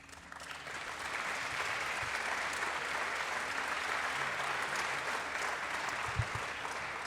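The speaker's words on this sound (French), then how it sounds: "Merci pour vos applaudissements" Sustained, fairly quiet applause from an audience at a political talk about resisting Putin and supporting Ukraine, an even wash of clapping that holds steady throughout.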